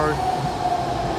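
A new three-door BART Blue Line train pulls out of Dublin/Pleasanton station, a steady, close rumble of rolling rail cars with a sustained electric whine running through it.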